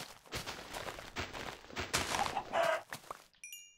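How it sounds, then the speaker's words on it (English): Chickens cluck in a Minecraft-style survival video game, with several short clucks and scuffs of footsteps, close and fairly quiet, followed by a bright chiming tone at the end. "kill a chicken with a shovel"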